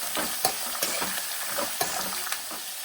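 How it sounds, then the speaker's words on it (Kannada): Onions sautéing in a pan for tamarind rice give off a steady, quiet frying hiss, broken by a few stirring scrapes and taps of a spatula at irregular intervals. "ಈರುಳ್ಳಿ 1 ನಿಮಿಷ ಬಾಡಿಸ್ಕೊಳ್ಳೋಣ."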